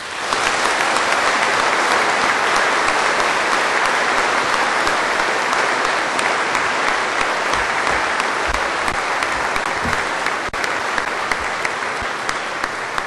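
Sustained applause fills a graduation ceremony hall after an honorary Doctor of Letters degree is conferred, a dense, steady clapping from a large audience that holds evenly for the full span without letting up.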